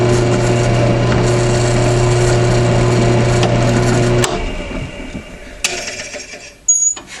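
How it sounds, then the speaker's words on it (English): Drill press run on its slowest belt speed boring through kydex sheet, a loud steady motor hum with a tonal whine that cuts out about four seconds in, followed by quieter handling clatter and a few clicks. "my drill press, I set my belt up to run at the slowest speed."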